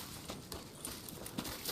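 A horse in a video game cutscene clops along with soft, faint, irregular hoof steps over a steady low background.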